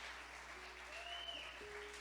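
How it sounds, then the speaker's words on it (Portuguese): A church congregation gives a soft round of applause during a sermon, a faint, steady patter of clapping with a few thin tonal whistles or squeaks over it. "Dá uma salva de palmas a Ele"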